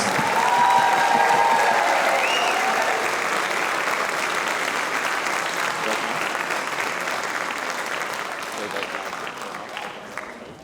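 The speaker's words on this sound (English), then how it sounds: "You deserve a big round of applause." An audience claps loudly in sustained applause that gradually thins and fades over several seconds.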